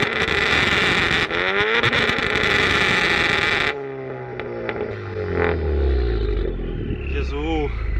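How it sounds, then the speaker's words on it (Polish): Heavily modified Honda car, billed as the loudest in Poland, revving hard with a harsh roaring exhaust for several seconds before dropping off into rumbling, rising and falling revs, very close and extremely loud. "Grzechem byłoby nie sprawdzić, jak głośny jest to samochód."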